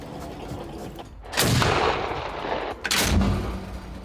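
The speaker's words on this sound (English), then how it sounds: "Aviation cannon, very high rate of fire." An armored vehicle's high-rate aviation cannon fires in two long, dense bursts, loud and close, each a continuous roar of rapid shots, with no voices.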